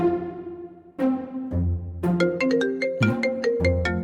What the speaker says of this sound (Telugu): మావయ్య ఫోన్ చేస్తున్నాడేంటి?